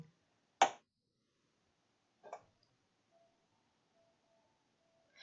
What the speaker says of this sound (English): So every time I press the up, it's clapping.